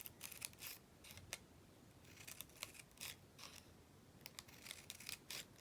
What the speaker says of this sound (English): And now I'm going to go ahead and just cut about 3/8 inch wide